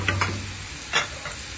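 Stuffed green chillies frying in a pan and being stirred: a few soft scraping strokes over a low, steady sizzle, close by, with no talking.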